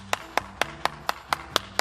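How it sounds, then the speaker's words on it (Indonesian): One person claps alone in a slow, even rhythm, about eight sharp, close hand claps spaced roughly a quarter second apart over a faint background hum. "Tepuk tangan yang meriah."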